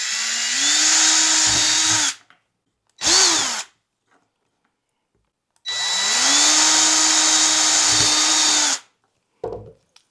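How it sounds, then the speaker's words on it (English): A power drill bores small holes through a solid salt shaker lid in two loud bursts of about two and three seconds each, its motor whining steadily, with brief spin-ups and a short tap between them and no talking. "Because this is a solid lid and we wanna drill a little hole in it, we can just take our drill"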